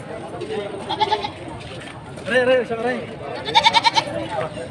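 A Boer buck goat bleats several times, wavering cries close by at a livestock sale, mixed with people talking.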